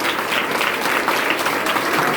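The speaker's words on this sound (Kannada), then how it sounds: "ಎಲ್ಲ ಕಟ್ಟಿಯಾಗಿ ಚಪ್ಪಾಳೆ ಹೊಡಿತಾ ನಾವು." Congregation at a charismatic prayer service clapping loudly and steadily together, a dense sustained burst of applause filling the room with no voices on top.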